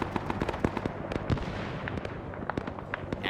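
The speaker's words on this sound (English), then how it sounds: "they hear the voices and they immediately start throwing grenades" Rapid bursts of grenade explosions from the Vietnam War video game SOG Prairie Fire, crackling sharp pops scattered irregularly over a few seconds, close and dense with no talk.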